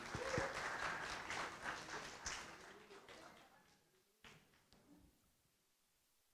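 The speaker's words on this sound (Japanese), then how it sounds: "拍手して。 Give him a back hand." Audience applause for a pair of newlyweds at a church service, a moderate burst of clapping that fades out over about four seconds, followed by near silence with a few faint knocks.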